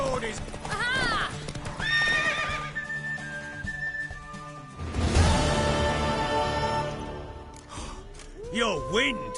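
Hooves clip-clop as a horse moves in the game The Witcher 3, with a loud neigh rising midway, while voices talk over the game sounds.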